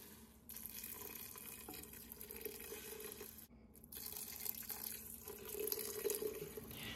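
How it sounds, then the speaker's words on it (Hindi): Water is poured into a chicken and vegetable soup pot, making a quiet, steady splashing stream with a brief break midway, and no talk. "तो इसमें फ़ौरन पानी ऐड कर देंगे।"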